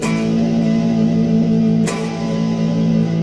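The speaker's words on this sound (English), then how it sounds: "And I'm going to use vibrato when I strike my chords like this." A loud electric guitar chord sustains with a slight wavering pitch from finger vibrato, restruck once partway through with a bright attack.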